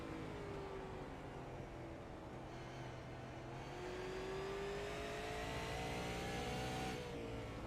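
Race cars in a playoff round of the Maple Ridge Racing Series at South Boston track make a continuous engine drone with whining pitch sweeps, heard steadily from a distance with no talking.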